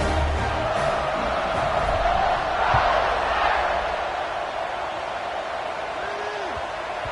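A football stadium crowd roars steadily through the whole stretch around kickoff, swelling slightly midway, a broad continuous wash of cheering with a commentator's voice faintly beneath it.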